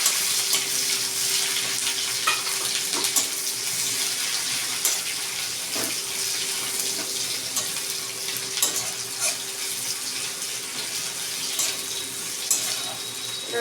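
Chopped onions sizzle in hot oil with cumin in a pan, a steady, dense crackling hiss that runs throughout, close and fairly loud, with small pops and stirring scrapes.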